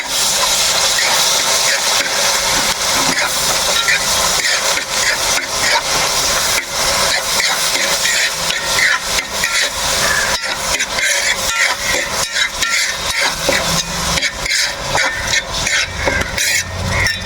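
Ginger, green chillies and onion being stirred in a hot pan for a clam meat curry, a loud steady sizzling hiss with scraping strokes running throughout.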